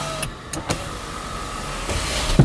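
A Dodge SRT-4's power window motor hums steadily at moderate volume, with a few clicks and thumps at the start and a louder knock near the end.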